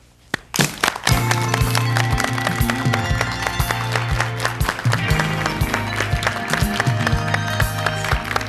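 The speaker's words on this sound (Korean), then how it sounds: "따뜻한 박수로 맞아주십시오." Warm studio audience applause greets a guest on a Korean KBS television talk show. It swells in after a soft start and continues steadily under accompanying music.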